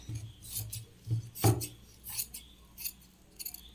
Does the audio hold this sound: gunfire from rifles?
no